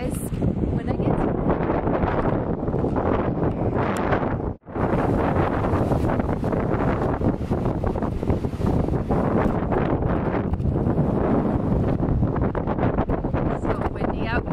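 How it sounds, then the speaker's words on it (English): Strong wind buffets the microphone in loud, continuous low roaring gusts, briefly dropping out once before resuming; a voice may be buried beneath, outdoors in Grand Haven, Michigan. "It's so windy out here today"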